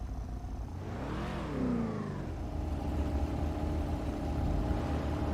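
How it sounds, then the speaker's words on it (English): An Audi V8 engine sound in a racing video game, fitted to a Lampadati Corsita (Maserati MC20), revs up steadily and then holds a loud, continuous drone throughout. "I'm using what is it, the Audi V8 sound with this one."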